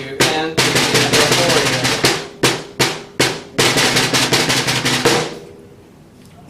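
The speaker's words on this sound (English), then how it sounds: "If I added the buzz only to the 16th note, it would sound like this." A snare drum plays buzz rolls on sixteenth-note strokes, dense rattling bursts in a steady rhythmic pattern with short gaps, loud and close, fading out near the end.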